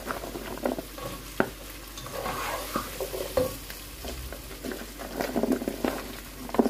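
Carrots and chicken stir-fried in a pan, a steady sizzle broken by irregular scraping and clacking strokes of a utensil, close and moderately loud, with no talking.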